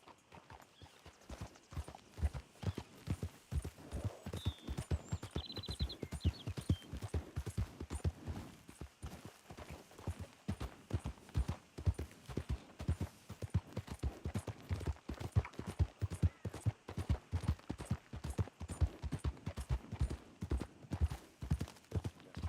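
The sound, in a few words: horse hooves while riding, from the video game Red Dead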